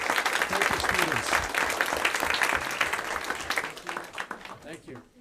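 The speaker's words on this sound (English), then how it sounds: "You also deserve a big round of applause." Students and attendees at a school board meeting give a round of applause, full and steady at first, then thinning into scattered claps as voices begin talking near the end.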